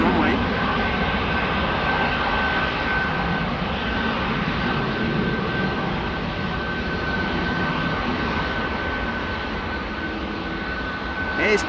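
Aircraft departing Amsterdam Schiphol Airport, a sustained loud jet engine roar with broad rumble and a steady whine, continuous and near throughout.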